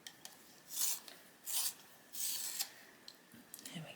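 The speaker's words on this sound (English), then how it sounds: "Just going to give it a sharpen." A green colouring pencil is sharpened in three short, scratchy grinding bursts, close and fairly quiet, with a few faint taps and scrapes between them.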